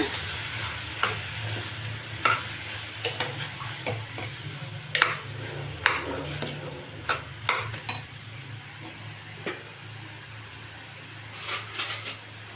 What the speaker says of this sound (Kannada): ಇದನ್ನೊಂದು ಸಲ ತಿರುಗಿಸ್ಕೊಳ್ಳೋಣ